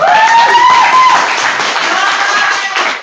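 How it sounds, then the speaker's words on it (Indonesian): A high school classroom of students claps loudly for a classmate, a close, dense burst of clapping with some voices mixed in, tapering off at the end. "Tepuk tangan tuh dia."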